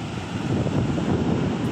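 Strong seaside wind buffets the microphone in a continuous broadband roar that swells and eases slightly, with possible surf mixed underneath and no voices.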